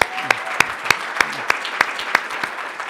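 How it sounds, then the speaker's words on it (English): Conference audience applauding a senator after his introduction, a steady wash of clapping from a crowd with sharp individual claps standing out, sustained throughout without talk. "How about another round of applause for Senator Tester, please?"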